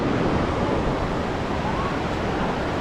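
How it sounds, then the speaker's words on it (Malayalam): Water rushes and flows continuously in a mountain stream beside a pine forest near Manali, a dense, even wash of sound with no voices. "പൈൻ ഫോറസ്റ്റ് അതിൻ്റെ സൈഡിൽ കൂടെ ഇങ്ങനെ വെള്ളം ഒഴുകുന്നു."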